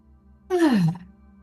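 A single deep, voiced exhale, like a long sigh, during a guided meditation. It is close and clear against near silence and falls in pitch as the breath ends.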